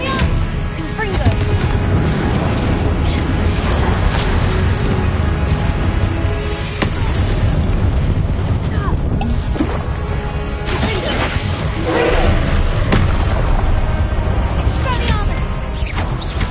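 Confringo spell explosions in Hogwarts Legacy burst through a dense, loud battle mix, sharp blasts recurring every few seconds over a continuous roar of game effects, with voices in the background.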